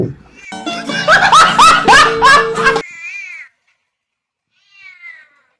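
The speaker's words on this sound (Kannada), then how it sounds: "ಇವರೇ ನಮ್ಮ ಮನೆಯ ಬೆಕ್ಕು." A pet house cat meows loudly and close by in a rapid string of calls for a few seconds. After a pause, one fainter, shorter meow follows.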